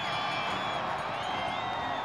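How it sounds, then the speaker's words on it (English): A crowd at a men's moguls freestyle skiing final cheers and whoops in a steady, dense wash of noise that holds at full volume throughout, with a commentator talking faintly underneath. "Crowd loving every minute of this"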